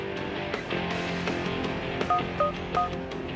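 In a French-dubbed cartoon, a telephone number is dialed as a quick series of close, clear keypad tones, several beeps in uneven succession over faint background music.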